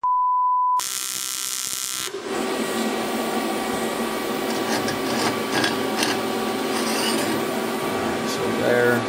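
An AC TIG arc tack-welds thin aluminum with ER4043 filler rod at low amperage, starting after a short beep and holding a steady, close electrical buzz for several seconds while voices talk underneath.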